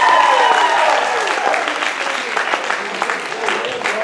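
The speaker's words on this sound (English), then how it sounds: "Huge round of applause for our volunteers." An audience at a Moscrop Dry Grad 2021 event applauds volunteers with a dense burst of clapping that starts strong and then thins slightly over a few seconds, with a faint voice under the clapping.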